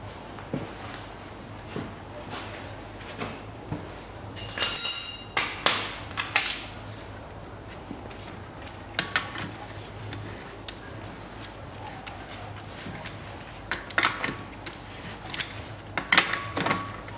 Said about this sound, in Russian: Ставлю шайбу и гайку привода.